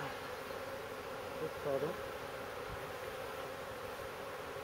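Honeybees at an open beehive during a spring inspection: a dense, steady buzzing drone fills the air, close and continuous, with a brief spoken voice partway through.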